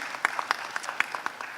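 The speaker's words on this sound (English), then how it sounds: "Round of applause, please." Scattered claps from an audience at an INDOSOLAR X ISEW solar and renewable energy industry event as a speaker joins the stage, sparse and fairly faint, with individual hand claps landing at irregular intervals.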